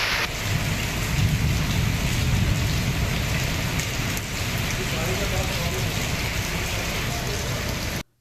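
Heavy rain pours steadily during a red-alert downpour in Puducherry and Karaikal, a loud, dense, continuous wash of falling water that lasts throughout before cutting off abruptly at the end.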